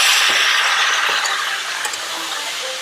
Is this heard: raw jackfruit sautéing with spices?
yes